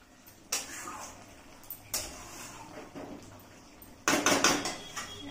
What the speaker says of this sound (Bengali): আমি এটাকে চাপা ঢাকা দিয়ে একদম লো ফ্লেমে হতে দেব